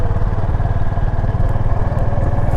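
A Honda Highness motorcycle ridden on a mountain road near Munnar, its engine giving a steady, loud, close thrumming pulse with constant wind rush and no pauses.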